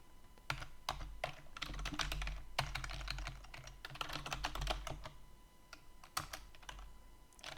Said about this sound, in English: And we'll type location.